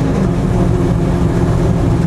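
A 1989 Ford Mustang race car with a straight-pipe exhaust rumbles steadily, a deep continuous low drone with no pauses and no voices.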